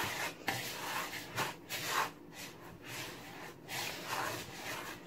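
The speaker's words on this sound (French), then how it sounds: "je vais mélanger le sucre et le sel avec la semoule" Semolina mixed by hand with sugar and salt gives a soft, continuous gritty rubbing and rustling with gentle rhythmic swells and no talking.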